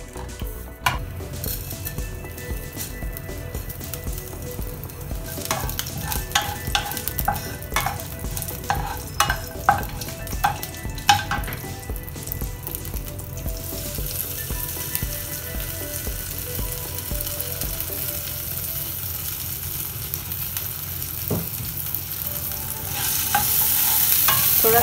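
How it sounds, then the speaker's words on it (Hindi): Ginger, panch phoron and chilli fry in a hot pan for a pumpkin curry, giving a steady close sizzle with repeated stirring scrapes and light clinks of a utensil, and no voices. "थोड़ा सा अदरक और थोड़ा पाँच फोरन और मिर्ची डाल के मैं इसको थोड़ा फ्राई कर लूँगी।"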